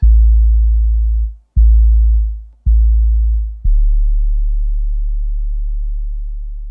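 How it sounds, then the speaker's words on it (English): Deep sub bass notes from a Novation Summit polysynth, four pure low tones each struck sharply then sustaining, the last note held and slowly fading out. "this sub bass is going to do very nicely"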